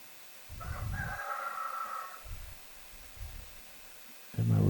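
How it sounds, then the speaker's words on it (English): A farm rooster crows loudly and close by in one long drawn-out call, with lower clucking bursts before and after. "And my rooster is going crazy."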